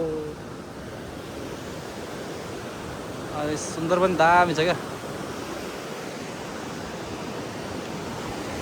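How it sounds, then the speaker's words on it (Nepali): Rushing water of the Kailash river near Ramaroshan in Achham, Nepal, makes a steady broadband roar throughout, with people talking briefly over it midway. "अनि पानी चाहिँ भयङ्कर रहेछ कैलाश खोलामा चाहिँ।"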